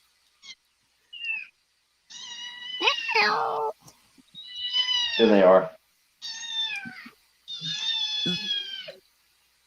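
Orange kittens meow repeatedly indoors, with several loud, drawn-out, close cries in a broken rhythm, while a person speaks briefly between them.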